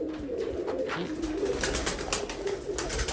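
A flock of Sialkoti pigeons at a rooftop loft keeps up soft, steady cooing, with many close, low, rolling calls overlapping throughout and no talk.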